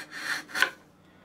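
A freshly stropped knife blade cuts across the grain of rough construction pine in two quick, close rasping strokes, the second slightly sharper, then fades out.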